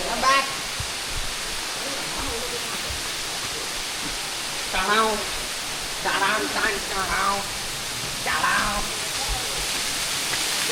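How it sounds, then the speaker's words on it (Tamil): Constant roaring rush of falling water at Sadasiva Kona waterfalls fills the scene, with people talking intermittently over it. "இப்போ நாங்கள் வேர் அருவியில் குளிக்க போகிறோம்"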